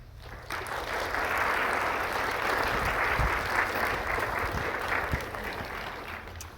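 An audience claps warmly for a lecturer about to speak, a steady dense wave of applause that swells quickly, holds for several seconds, then starts to taper off.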